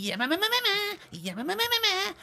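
A voice mimics the Stephenson's Rocket steam locomotive with two drawn-out, wavering bleat-like cries that rise and fall, close and clear, with no real engine present.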